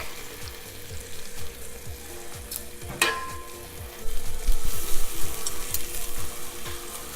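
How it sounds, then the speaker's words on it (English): Two garlic cloves frying in a couple of teaspoons of olive oil in a pot for a one-pot Italian chicken dish, a close, steady crackling sizzle with one sharp utensil clack and a hiss that swells near the end. "put another couple teaspoons of olive oil, 2 cloves of garlic"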